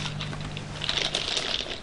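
Tortilla chips being crunched nearby, a short burst of crisp, crackly bites and crinkles over a steady low hum.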